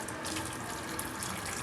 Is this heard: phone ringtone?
no